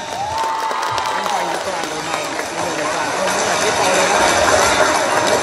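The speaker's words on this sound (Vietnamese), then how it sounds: "Một tràng vỗ tay." A parish congregation at a thanksgiving concert night applauds, giving a dense, loud wash of clapping and crowd noise that swells slightly toward the end, with a voice talking over it.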